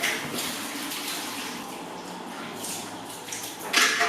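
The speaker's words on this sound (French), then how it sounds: "Il faut vraiment rincer le produit." Water pours and splashes as hair product is rinsed out of hair, a steady close rushing stream with a brief stronger gush near the end.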